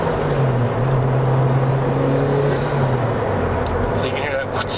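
A Toyota MR2 Twin Turbo's engine revs with a rising then falling intake roar, loud and close, a sustained tone climbing and easing back over a few seconds, with a voice talking briefly over it.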